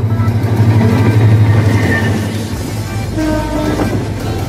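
A Bangladeshi intercity express train on the Dhaka–Sylhet route roars past up close, its loud horn sounding a sustained tone before the heavy rolling rumble carries on.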